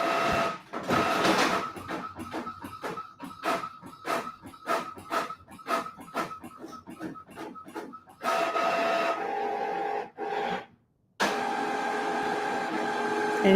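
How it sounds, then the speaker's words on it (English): An inkjet or desktop printer whirring and clicking through a print job, with repeated short mechanical strokes, then a steadier feed sound broken by a brief pause, fairly close in a quiet home room. "My printer just came alive."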